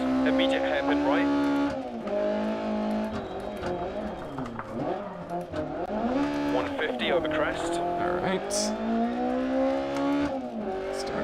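A rally car in Dirt Rally drives on asphalt, its engine droning and revving continuously up and down with tire scrubbing through the corners, while a co-driver calls pace notes and someone talks over it.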